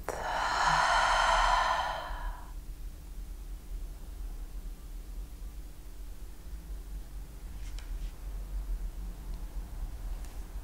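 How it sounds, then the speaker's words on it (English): A deep exhale through the mouth during a meditation exercise, one breathy, sigh-like release lasting about two seconds up front, close and fairly loud, then fading into quiet room noise. "Exhale through the mouth."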